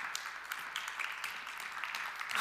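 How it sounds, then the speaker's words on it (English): Brief, fairly faint audience applause for speakers gathered on stage at a talk event, a light steady patter of claps heard from a distance, with no one talking. "maybe all the speakers can come here to the stage once again for a short applause"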